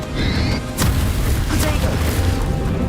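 In the video game Hogwarts Legacy, a Confringo blasting spell bursts in a deep booming explosion, mixed with other thuds and hits amid loud, continuous game combat noise.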